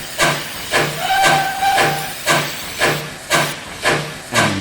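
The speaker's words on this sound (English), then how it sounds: "Then the driver pulled the lever and Edward puffed away." A steam engine puffs in a steady rhythm, with about nine hissing chuffs evenly spaced and loud, a faint whistle-like tone briefly running under them.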